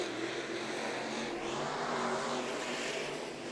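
Race cars battling in a heat race at Santa Maria, their engines roaring in a loud continuous drone at close range, with no pause across the short stretch.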